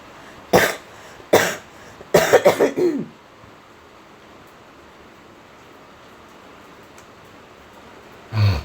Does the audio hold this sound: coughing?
yes